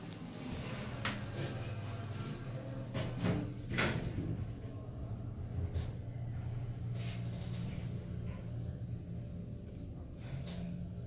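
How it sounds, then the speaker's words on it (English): A 1992 Dover Impulse hydraulic scenic elevator at an Embassy Suites has a door that only partly closes properly. It slides shut with a faint, hissing rumble and several soft thumps and clunks against a steady mechanical hum, with no speech. "Door close kind of works."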